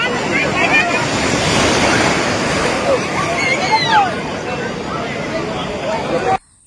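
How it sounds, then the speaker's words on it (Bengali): Strong sea waves surge and roar at Digha beach with heavy wind buffeting the microphone, while faint voices and distant cries rise in the background before the sound cuts out. "আজকের ঢেউটা প্রচণ্ড জোরালো ছিল"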